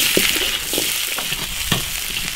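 Scallion, ginger, dried chili and Sichuan pepper stir-fry in hot oil in an iron wok, a loud continuous sizzle broken by several scraping, stirring knocks from a spatula.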